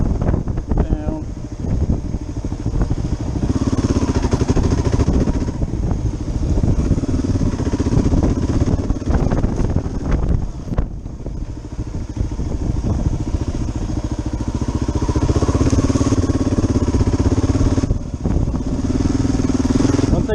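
Kawasaki KLR 650 motorcycle riding on woodland adventure trails, its engine a steady close drone mixed with heavy wind buffeting on the microphone, with some rises and dips in pitch through shifts.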